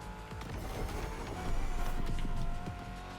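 Car engine in the racing game The Crew Motorfest, a steady droning motor with a rising pitch that grows louder midway, accompanied by faint tire and road noise and no talk.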